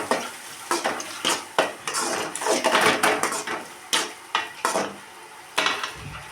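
Beans, carrot and tomato being stirred in a frying pan, with repeated scraping strokes of a utensil against the pan over a light sizzle, close and fairly loud, with no talking.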